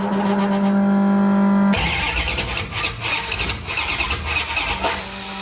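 A rebuilt 360 engine in a 1973 Dodge Dart cranks with a steady starter whine, then catches and runs rough and loud, its uneven idle pulsing close by.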